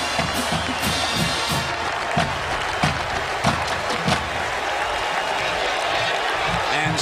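A stadium crowd at a Purdue versus Ohio State college football game in 2000 cheers and applauds steadily as a returning player takes the field for a punt return, a dense, continuous roar with scattered louder claps.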